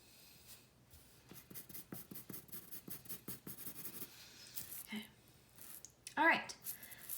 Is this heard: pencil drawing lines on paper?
yes